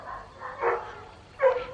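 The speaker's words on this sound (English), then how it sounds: "you can hear my big dog Jed barking and little dogs barking" Big dog Jed and smaller dogs barking from indoors, two or three muffled, distant barks spaced apart with quiet gaps between, the last one a bit louder.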